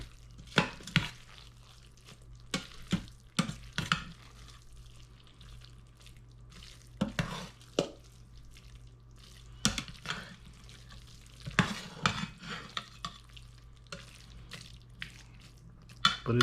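Cooked chicken bog, a rice dish, is fluffed in an Instant Pot with a utensil: soft, scattered scraping and scooping clicks and wet squishes, close and quiet, irregular with pauses.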